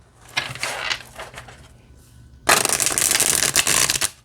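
Tarot cards riffle-shuffled up close, a short crisp burst followed by a longer, louder flurry of snapping card edges.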